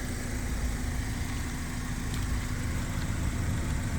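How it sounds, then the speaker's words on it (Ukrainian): A 2016 Citroen Jumper Maxi van's diesel engine idles steadily and low, droning evenly with a faint vibrating rumble, unchanging throughout. "На даний час двигун працює"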